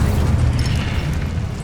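Incendio fire spell cast in Hogwarts Legacy, a loud, continuous roaring burst of magical flame with a heavy low rumble that holds steady throughout, no voices.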